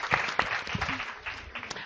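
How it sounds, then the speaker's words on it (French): Audience at a psychiatry congress (Congrès de l'Encéphale) clapping, a short, fairly faint burst of scattered claps that thins out quickly. "Allez, on applaudit bien fort."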